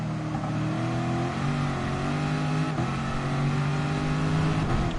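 A race car engine in a NASCAR-style GT Sport Series racing game at Red Bull Ring drones steadily and loudly throughout, its pitch dipping and climbing as the throttle is lifted and pressed again, with no talking.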